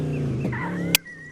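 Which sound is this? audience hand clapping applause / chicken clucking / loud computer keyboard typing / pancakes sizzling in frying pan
chicken clucking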